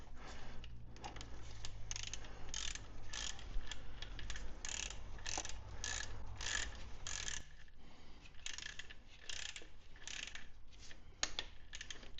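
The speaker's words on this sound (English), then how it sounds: "So I've actually got an inch-pound torque wrench here." An inch-pound torque wrench tightens the oil drain plug on a 2018 Alfa Romeo Stelvio/Giulia, making soft, quick ratcheting clicks in repeated runs, quiet and close, with no talking.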